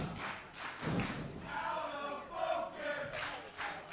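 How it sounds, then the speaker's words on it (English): Wrestling crowd at a live pro wrestling pre-show event jeering and shouting at a wrestler, a loud sustained roar of voices with bursts of yelling and chant-like swells rising and falling throughout. "Crowd getting on Batiste"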